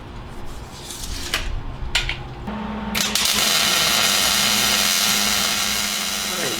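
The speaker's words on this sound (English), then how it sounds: "With the tube adapter in place, I lay a couple spot welds on there, 180 degrees from each other." Spot welds tacking a tube adapter onto a Jeep Cherokee tie rod tube, heard as a loud, steady buzzing crackle that starts about halfway through and runs on, after a few sharp clicks.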